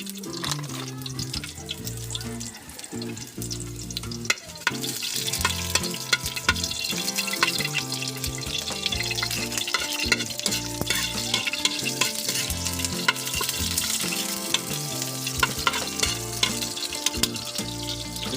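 Garlic and onion sautéing in a pan for a shabu shabu dish, a loud close sizzle with constant stirring and clattering of a utensil against the pan, without talk.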